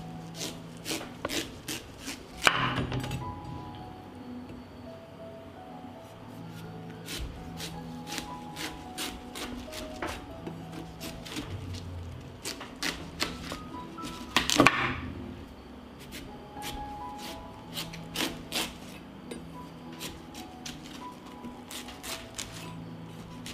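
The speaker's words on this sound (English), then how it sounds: "I washed the watermelon and now I will cut it into slices." A knife slices through a washed whole watermelon, giving scattered crisp cuts and thuds with soft rubbing and shuffling between them, close and fairly quiet, with no talking.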